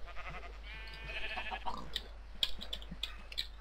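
Sheep in Minecraft bleat with wavering, nasal cries, several overlapping calls fairly close. Soft clicks follow in the second half.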